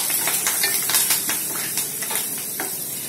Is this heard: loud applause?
no